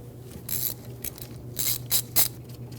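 A ratchet with an E10 inverted torque socket loosens a rear brake bolt on a 2016-2022 Mercedes-Benz GLC300, with several short, close ratcheting bursts over a steady low background hum.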